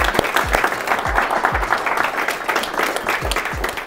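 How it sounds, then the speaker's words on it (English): Conference audience applause at a small business event, loud, dense clapping from a crowd sustained evenly throughout, with some deep thuds mixed in. "if we can give them a round of applause for"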